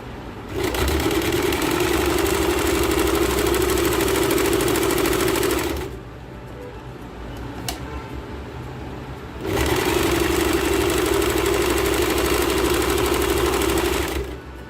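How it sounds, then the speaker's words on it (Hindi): Two long bursts of a sewing machine running straight stitching along the edge of palazzo fabric, a loud close whirring hum that stops for a few seconds in between, with no talking. "इसको सीधी सीधी सिलाई लगा लेंगे किनारे किनारे पर।"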